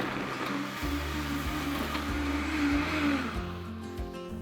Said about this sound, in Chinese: 高速搅打到细腻